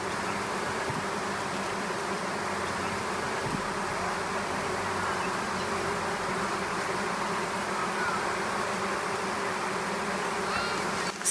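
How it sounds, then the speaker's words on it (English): A dense, steady buzzing hum of many honeybees on lavender, continuous and fairly loud throughout, with no voices. "Can you see the bees? There are millions of them, and hear their hum."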